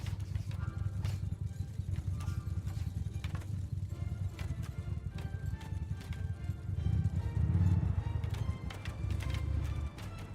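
Many hooves drum rapidly and continuously as horse archers gallop in the video game Bannerlord, a dense rumbling clatter that swells briefly before easing off.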